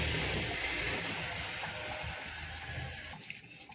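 Tamarind water poured into a pot of Odia fish ambil curry, a steady close splashing pour running for about three seconds before stopping abruptly, followed by faint kitchen quiet.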